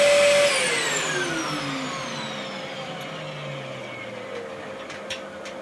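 Dyson DC04 vacuum cleaner running with a tool fitted to the hose, a steady whining motor hum whose pitch slowly falls as it spins down, close and fairly loud.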